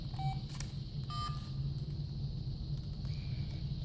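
Keypad button beeps on a Motorola MicroTAC flip phone, a few short separate tones over a low steady background rumble.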